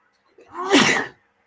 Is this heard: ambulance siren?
no